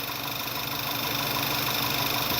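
A car engine idles steadily and smoothly after a fuel misfire repair, a continuous close mechanical hum with a faint knocking texture and no talk.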